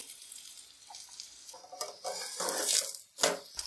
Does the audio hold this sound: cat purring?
no